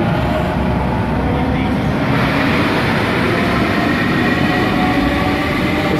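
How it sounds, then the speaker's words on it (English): A Sydney K-set suburban electric train departs a station platform, giving a steady close rumble of wheels and motors that fills the whole stretch, with faint voices in the background. "At the same time, the K-set is departing."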